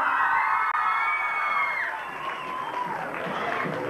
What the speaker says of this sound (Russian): Итак, аплодисменты Юлии Филипповой.